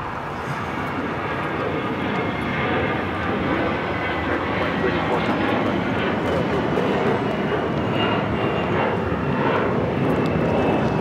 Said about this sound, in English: This is American Airlines 2284 taking off to Miami, Florida on the A321